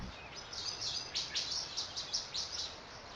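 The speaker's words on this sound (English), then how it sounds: "You might know they're just more birds." Birds chirp and tweet in a quick series of high, bright calls, repeating about every half second over a steady outdoor background hiss, fairly faint and with no one talking.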